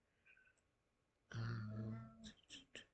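A needy cat vocalizing indoors, one drawn-out moaning meow close to the microphone followed by a few short chirping calls, over a quiet background.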